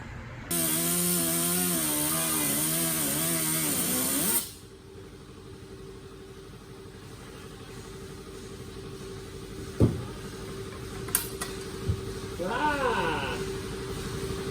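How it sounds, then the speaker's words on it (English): A cutting wheel slices through metal between pre-drilled holes during a Lexus IS300 turbo build. A loud, steady whine with a wavering pitch runs for about four seconds, then stops abruptly, followed by a few faint knocks and clicks. "all I did was connect the dots in my pre-drilled holes with my cutting wheel."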